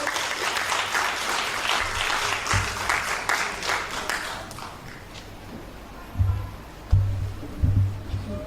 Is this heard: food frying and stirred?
no